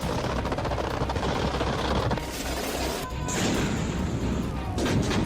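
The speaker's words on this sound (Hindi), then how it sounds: "समुद्र के तट पर हैवी मशीन गन और तोप से लगातार फायरिंग प्रैक्टिस की जा रही है।" Loud, continuous heavy machine gun and cannon fire during a Venezuelan coastal firing drill, a dense unbroken roar of rapid shots with a brief lull and sharper bursts near the end.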